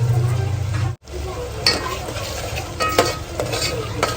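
Spiced gravy with garam masala and salt is stirred in a pan over sizzling heat for a Kathiyawadi dahi rotlo dish, giving a steady close frying hiss with scraping strokes and a brief silent gap near the start.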